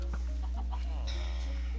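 Chicken clucking in the Minecraft-based game WynnCraft, a few short clucks over a steady low electronic hum and game sounds.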